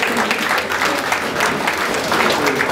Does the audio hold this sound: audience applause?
yes